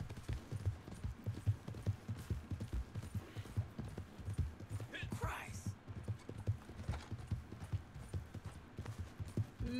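Horse hooves clip-clop in a quick, even rhythm, a steady galloping beat at moderate distance heard throughout, with a voice cutting in briefly midway.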